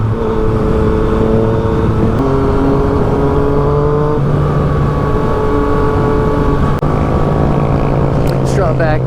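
A 2016 Yamaha FZ-09 motorcycle accelerates up close. The engine note climbs in pitch and drops at each of several gear shifts, with steady wind rush behind it.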